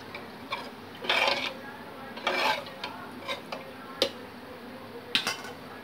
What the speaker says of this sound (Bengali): সব কিছু ভালো করে মিশিয়ে দেবো হাতা দিয়ে।